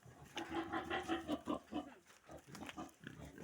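Pigs on a pig farm grunting and oinking in a run of close, rhythmic calls, some squealing bursts in between, heard fairly quietly with no clear speech.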